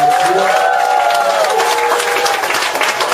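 Seminar audience breaking into loud, sustained applause at a behavioral training talk, a dense, steady patter of many hands with a voice briefly rising over it.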